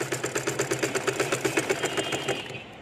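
Sewing machine stitching fabric while skipping stitches, a fast even mechanical chatter of regular needle strokes up close, running steadily before cutting off near the end.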